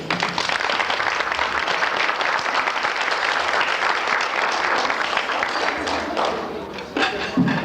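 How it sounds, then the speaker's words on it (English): A foster parent conference audience applauds guest speaker James Hobson, a dense, sustained round of clapping from a large room that runs steadily throughout before thinning out at the end. "So could you give applause"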